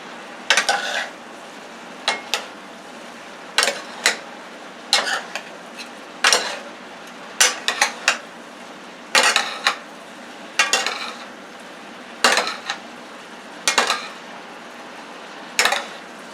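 Skirt steak is stirred with seasoning salt in a dish, giving a series of sharp utensil clinks and scrapes in irregular pairs, close and clear over a faint background.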